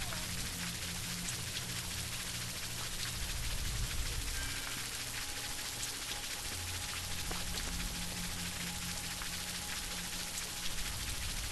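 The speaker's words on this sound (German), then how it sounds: "Alle raus, es regnet." In-game rain in Prison Break: The Conspiracy falls as a continuous, even hiss of drops on surfaces, steady and moderately loud for the whole stretch with no talking.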